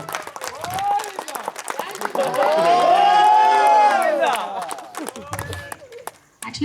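A crowd at a cricket league presentation cheers, claps and shouts, with the cheering swelling to a loud, sustained peak in the middle before fading back, mixed with voices.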